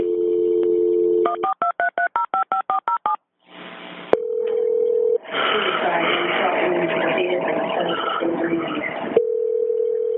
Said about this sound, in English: And then he calls 911 again.